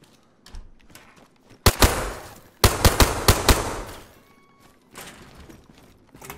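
Gunfire trades back and forth in the DayZ video game: two sharp bursts of close, loud shots separated by a pause, with fainter scattered reports before and after.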